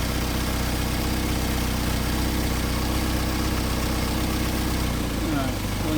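A Mercedes 190SL engine with Solex carburetors idles with a steady, loud low throb and regular pulsing rhythm, close by. The idle shifts slightly near the end.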